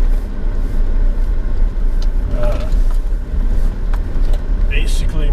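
Steady engine and road rumble from a car driving along a road in Nicaragua between Miramar and El Velero beach, recorded from inside, loud and continuous with a voice talking over it.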